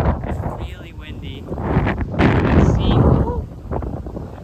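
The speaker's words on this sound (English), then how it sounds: "it's really windy" Strong wind buffets the microphone on the shore of the Sea of Galilee, a steady broadband roar that swells in gusts, with voices talking underneath.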